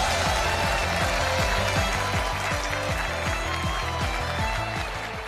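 A studio audience at a crosstalk comedy competition show applauds in a steady, dense wash of clapping, with a rhythmic, thumping music bed pulsing underneath throughout.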